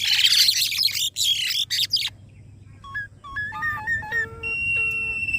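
A myna calls on a rooftop flower garden. After a burst of loud rustling, close clear whistles and chirps follow in short varied phrases.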